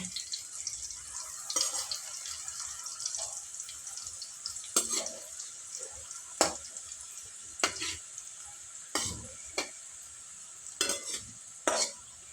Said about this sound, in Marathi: हे पण व्यवस्थित दोन्ही बाजूने फ्राय करून घेऊ चांगले